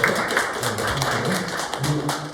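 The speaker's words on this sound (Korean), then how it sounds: "박수 한번 해주세요" Classroom students clapping for a classmate who answered correctly, a short burst of close, irregular hand claps from a small group, fairly loud and even throughout.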